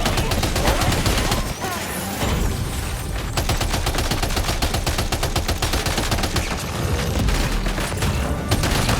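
Dense, loud bursts of automatic gunfire and rapid shots in the video game Death Stranding, sustained and relentless throughout with booming impacts layered in.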